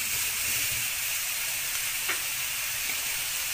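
Onions fry with spices in a pan for a Moroccan beef and prune dish, giving a steady, even sizzle that stays close and constant with no talking.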